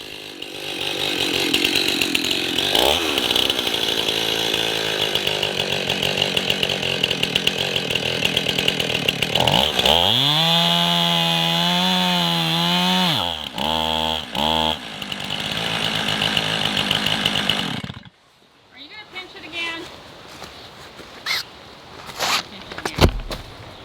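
A chainsaw cuts into a tree with a wedge set in the kerf, its engine droning loudly, dropping and revving as the bar bogs in the wood, then cutting out into quieter rustling and knocks.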